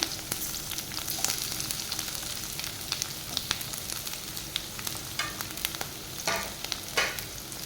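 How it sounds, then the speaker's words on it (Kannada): Onions sizzling in hot oil for squid sukka, a steady crackling fry with occasional louder pops and stirring scrapes, close and continuous with no talking. "ಎಣ್ಣೆ ಬಿಸಿ 1-2 ನೀರುಳ್ಳಿಯನ್ನು ಹಾಕ್ಕೊಳ್ತಾ ಇದ್ದೇನೆ."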